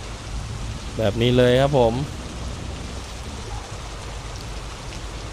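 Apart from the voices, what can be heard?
heavy rain while driving a truck in Truckers of Europe 3 video game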